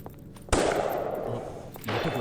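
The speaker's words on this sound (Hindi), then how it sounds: "ये तो गोली चलने की आवाज है।" A sudden sharp blast of gunfire cracks out, followed by a sustained noisy burst and a second report near the end, loud and close in a dramatic film scene.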